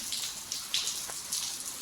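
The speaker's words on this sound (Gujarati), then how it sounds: "વરસાદ ચાલુ છે હજી" Heavy unseasonal rain falling in a steady, fairly faint patter close by, with scattered louder drips and splashes over a constant wash of water.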